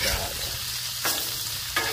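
Fish fillets frying on a Blackstone griddle for fish tacos, a steady close sizzle with a couple of brief scraping or turning bursts, no talking.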